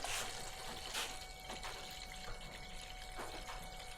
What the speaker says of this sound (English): that pump's very quick, that one